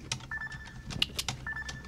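Computer keyboard keys tapped in quick irregular clusters, fairly close and moderately quiet, with faint background music underneath.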